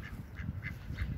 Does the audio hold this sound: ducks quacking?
yes